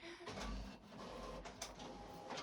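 An HP inkjet printer printing on fabric whirs quietly in the background, a faint mechanical hum with soft clicks and shuffling pulses as it works.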